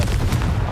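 Confringo explosive spell blast in the Hogwarts Legacy video game: a short, dense low boom with a bright burst partway through, loud and close, with no talking.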